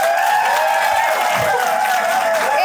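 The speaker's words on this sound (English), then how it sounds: "One more round of applause for our Edmaster" A live comedy game-show audience gives the host another round of applause, a dense, even wash of clapping and crowd noise with music playing underneath, plus a brief whoop.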